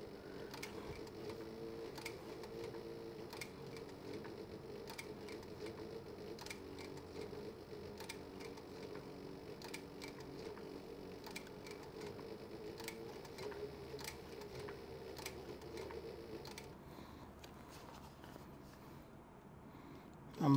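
A sewing machine stitching leather for a mouse pad runs in a fast, even mechanical patter for most of the stretch, fairly quiet, then slows and stops near the end.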